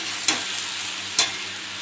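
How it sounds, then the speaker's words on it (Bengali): Beans and potatoes stir-fried in a pan, a steady soft sizzle with two sharp clatters of stirring, alone without talk. "শিম আর আলুগুলো দিয়ে দেবো। নেড়ে চেড়ে ভেজে নেব।"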